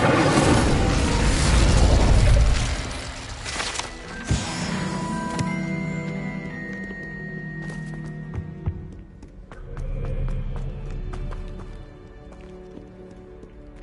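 Incendio fire spell cast in Hogwarts Legacy: a loud roaring whoosh and burst, followed by crackling, tonal magical effects and scattered impacts that fade and swell again.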